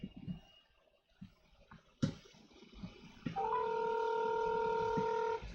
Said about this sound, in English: So let's go ahead and see if we can get Hobbiton Piper on the phone.